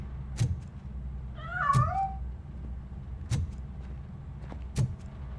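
A single short cat meow sounds in the video game Robocop Rogue City, set against a low ambient hum and a few sharp clicks and knocks spaced around it.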